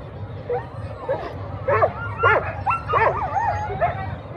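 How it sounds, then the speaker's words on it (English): Excited sled dogs at the Fur Rondy sled dog race on Anchorage's 4th Avenue yip, whine and bark in a rapid, eager series over outdoor crowd murmur. "There's some happy dogs there."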